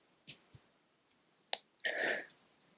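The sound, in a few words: ratcheting clasp clicking on vintage Doxa watch bracelet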